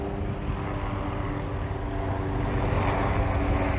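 Airplane flying overhead, a steady broadband engine drone held at even loudness throughout, heard alone with no voices.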